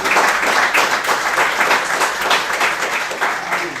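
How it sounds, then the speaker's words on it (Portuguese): Church congregation applauding the Lord during an evening service, loud sustained clapping from a large crowd, dense and even throughout, with faint voices mixed in. "Você pode aplaudir ao Senhor com a sua melhor?"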